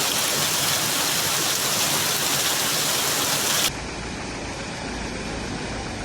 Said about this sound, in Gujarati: આણંદ જિલ્લામાં સમગ્ર જિલ્લામાં બધા તાલુકાઓમાં ખૂબ ભારે વરસાદ થઈ છે.